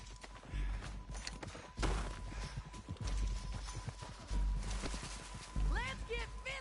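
Horse hooves clip-clop in quick, irregular beats beneath shouting voices during a tense game scene, with loud thumps and a brief high whinny-like sweep near the end.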